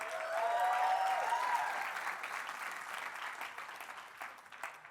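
Steady applause from an audience, dense clapping that swells at first and then slowly tapers off, with a whistle near the start.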